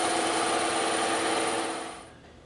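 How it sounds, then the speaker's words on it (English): A bandsaw cutting through EVA foam gives a steady, close mechanical buzz that holds for about two seconds before fading as the cut ends. "when we go through the bandsaw, it's not going to roll on us"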